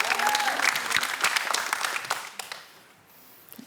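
A game show studio audience claps in a brief burst that thins out and fades after a couple of seconds, with a faint voice underneath.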